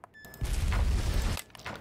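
Explosion in the video game Mimicry: a short, deep, rumbling blast that swells and fades within about a second, moderately loud and alone.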